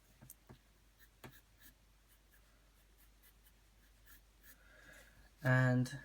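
A pencil draws lines on paper while sketching an anime face, giving soft, scratchy strokes in short, uneven bursts, close and quiet, with a brief loud voice near the end.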